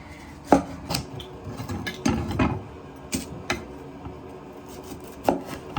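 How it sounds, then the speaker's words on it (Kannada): Broccoli being chopped with a knife on a board for a Chinese home-style dish, a series of sharp irregular knife strikes close by with quiet gaps between cuts. "ಸೊ ಈಗ ನೆಕ್ಸ್ಟ್ ನಾನು ಬ್ರೋಕ್ಲಿ ಏನು ತೊಗೊಂಡಿದ್ದೆ, ಸೊ ಅದನ್ನು ಕಟ್ ಮಾಡ್ಕೊಂಡು ರೆಡಿ ಮಾಡ್ಕೋತಾ ಇದ್ದೀನಿ."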